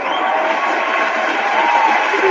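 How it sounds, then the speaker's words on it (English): An audience cheers and applauds a guest being welcomed on, a dense continuous roar of crowd noise and clapping at full strength throughout. "Let's give her a round of applause also"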